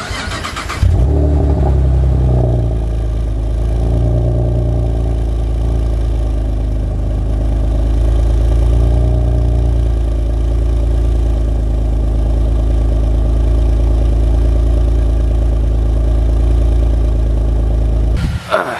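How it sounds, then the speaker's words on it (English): Chevrolet Camaro engine cold-starting, then idling steadily with a loud, constant near rumble for the rest of the stretch, with no talk over it. "I'm gonna hit you guys with a cold start real quick, because I gotta let the car warm up"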